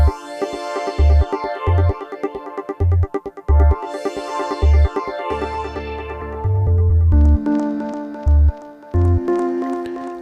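Two synthesizer chords with a sweeping filter rise and fall over a sparse 132 bpm beat with punchy low kicks, the chords opening bright and then closing down as the pattern continues.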